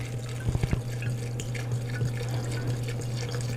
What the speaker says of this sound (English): So now we're gonna pour some of this in there.